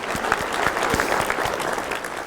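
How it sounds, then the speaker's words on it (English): A seminar audience claps for standing business owners, a short, lively burst of applause with some individual hand claps audible near the front. "Let's clap for you."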